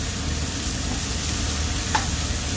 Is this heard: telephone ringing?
no